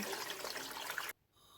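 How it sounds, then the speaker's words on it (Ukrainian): A steady rush of water pouring into a pot over pork meat for about a second, then it cuts off abruptly, leaving quiet. "Залити м'ясо водою."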